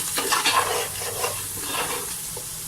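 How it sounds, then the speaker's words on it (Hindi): Spices, turmeric and chillies fry in a pan while being stirred for a white bean lobiya dish, giving a close sizzle with a few scraping strokes early on that settle into steadier frying. "सब चीज़ें हम इसको अच्छी तरह पकाएंगे, इनको अच्छी तरह भून लेंगे सबको"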